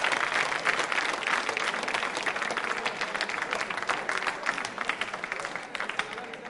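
An audience at the Prashnottari quiz show claps loudly and steadily for several seconds, a dense wash of hands that eases only slightly toward the end.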